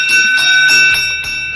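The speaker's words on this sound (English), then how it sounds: "And there's our 1 lap to go bell from race director Mike Weiss" A race director rings the one-lap-to-go bell in a virtual bike race on the Giro della Montagna loop, a bright metallic ringing that sustains and rolls on for more than a second, clear and fairly loud.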